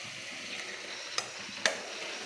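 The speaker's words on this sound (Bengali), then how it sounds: "মাছগুলো একটু ভালো করে এপিট ওপিট করে নাড়াচাড়া করে নেব।" Fish frying in a pan on a gas stove and being turned and stirred: a quiet, steady sizzle broken by two sharp clicks of a utensil against the pan.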